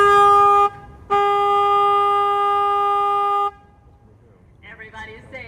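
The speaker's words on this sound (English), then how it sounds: "So I'm gonna honk my horn twice here, okay?" A tour boat horn on the San Antonio Riverwalk sounds twice, loud and close: a short blast, a brief gap, then a longer sustained one. Faint voices rise afterward.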